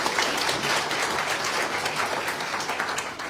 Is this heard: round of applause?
yes